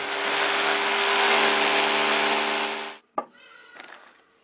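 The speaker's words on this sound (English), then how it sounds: "Using an 8mm masonry drill bit, we are now ready to drill the holes" A loud, steady power drill with an 8mm masonry bit whines continuously into masonry for about three seconds, then stops abruptly, followed by a sharp knock and some quieter handling noises.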